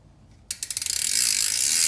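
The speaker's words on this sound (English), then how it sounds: "I hate loud hubs. I wish this thing was just dead silent." The freewheel hub on a 2019 Specialized P3 bike starts ratcheting with distinct clicks that speed up into a loud, rapid buzzing whir, close and alone.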